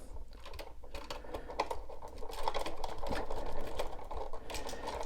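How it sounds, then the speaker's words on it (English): Phillips screwdriver turning a screw on a USB wall outlet, heard as a steady run of small dry clicks and ratcheting ticks close by, with no talk over it. "Back to the Phillips screwdriver."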